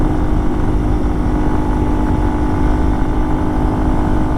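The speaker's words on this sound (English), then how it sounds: "I can still accelerate a little bit with the motorcycle, but it takes it a little bit of time to gain that speed." A Yamaha TW200 200cc motorcycle accelerates uphill on a dirt road, its engine droning steadily and loudly close by with a constant buzzing rumble and no talk over it.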